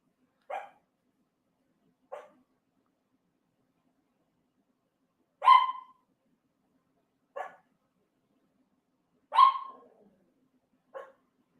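Two dogs named Scotch and Bernie bark in six separate bursts spread over several seconds, each short and sharp, with two louder, fuller barks among them; silence between the barks and no voices.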